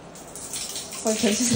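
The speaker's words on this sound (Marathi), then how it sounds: "पाणी पडते" Water pours and splashes steadily nearby, growing a little louder partway through, with a person's voice briefly heard over it at the end.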